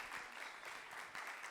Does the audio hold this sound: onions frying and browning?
no